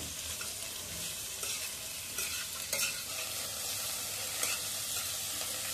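Thinly sliced cabbage, capsicum and onion hiss and crackle as they are stir-fried in a hot pan for soybean chilli. The sizzle is close and steady, with scraping stirs throughout and no talking.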